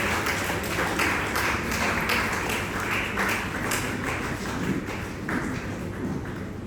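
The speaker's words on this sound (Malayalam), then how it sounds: "നല്ലൊരു കൈയടിയോടുകൂടി സ്വാഗതം ചെയ്യുന്നു" Audience applause welcoming the newly elected secretary at a diocesan women's association general body meeting, a steady crowd of clapping hands sustained evenly throughout.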